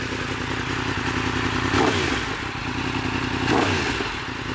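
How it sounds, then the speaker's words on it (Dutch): A Yamaha MT-10 motorcycle engine runs loud and close with a rough, steady idle, broken by two brief throttle blips. "Maar ik zal eventjes de motor starten, zal ik het even aan jullie laten horen."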